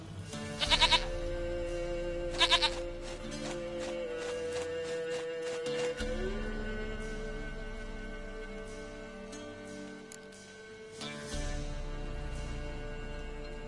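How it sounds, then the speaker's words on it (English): A goat in The Witcher 3 video game bleats in short repeated bursts, two close loud calls early and another later, over a quiet sustained game-music drone. "Goat of mine, dearest, sweetest goat."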